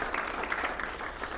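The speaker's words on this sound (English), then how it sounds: "For a round of applause for our board chair and for our incoming chair, John Leal and Grace Rodriguez Elliott." Audience applause at a District 7 community breakfast, a steady wash of many hands clapping together for the whole stretch, close and even, with no voices standing out.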